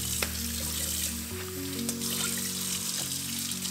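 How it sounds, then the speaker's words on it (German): Water runs and trickles into a kitchen sink as a sponge rinses it, a steady close splashing flow with small shifts in tone partway through, with no talking. "Anschließend mit dem Schwamm nachspülen und ausspülen."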